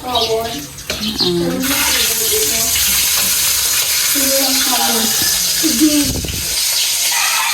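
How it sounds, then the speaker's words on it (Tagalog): Water runs from the tap into a small bathroom sink as a steady hissing splash for several seconds, while people talk over it. "Ito yung lababo. Ang liit no?"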